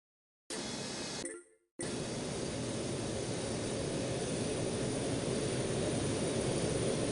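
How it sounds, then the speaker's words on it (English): A heavy cargo jet approaching to land at Newark airport gives off a loud, steady broadband roar. The roar breaks off for about a second near the start, then holds constant and full to the end. "Tower, X cargo 589 heavy inbound for runway 29. Cleared to land runway 29"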